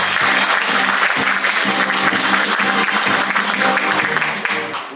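Dense, loud applause from the audience at a union's 36th regular delegates' assembly commemoration ceremony, steady clapping filling the hall throughout before tapering slightly at the end.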